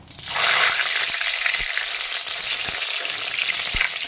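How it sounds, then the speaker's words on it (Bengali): Panch phoron and bay leaves drop into hot oil with dry red chillies already fried in it, setting off a sudden loud sizzle that holds steady with occasional faint pops and scrapes. "এখন দিয়ে দেব পাঁচফোড়ন আর তেজপাতা।"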